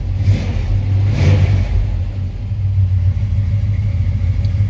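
Deep, rumbling 454 V8 engine of a 1955 Chevrolet 210 revving close by, a couple of throaty swells over a steady idle.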